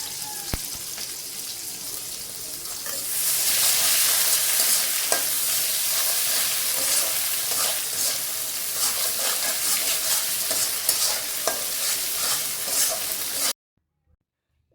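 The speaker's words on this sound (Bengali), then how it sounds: "কাঁচামরিচ পেঁয়াজ সুন্দর করে লাল লাল করে ভেজে নিয়ে তারপরে দেওয়া হলো এই যে পাঙ্গাস মাছের চাপা আর মাথা" A pangas fish head and jaw pieces fry in a pan over onions and green chilies browned red; a loud, dense sizzle swells after a few seconds and holds steady, with faint stirring, then cuts off abruptly.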